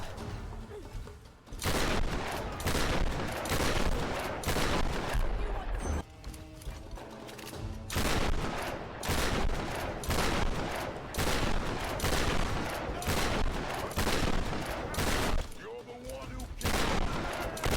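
Rapid game gunfire as slugs are fired into the boss Boris in Tomb Raider, dense repeated shot bursts and mechanical clatter over most of the stretch, with brief pauses and voices mixed in.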